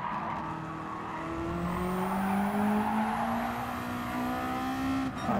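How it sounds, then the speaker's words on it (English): Race cars accelerating hard in a drag race in Gran Turismo 7, engines climbing steadily in pitch through the gears with a sustained roar, close and loud, with a brief drop near the end. "Drag race."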